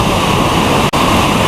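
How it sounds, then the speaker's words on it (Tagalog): Anbang Falls in Matanao, Davao del Sur, a waterfall over a rock formation, roars as a loud, steady, close rush of falling water with one brief dropout. "Sa wakas ay nakaligo na rin kami dito sa hidden gem ng Matanaw, ang Anbang Falls Rock Formation."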